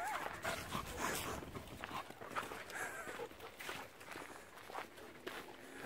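A dog on a hiking trail pants and moves about close by, with quick footsteps and rustling, and excited people talk over it throughout.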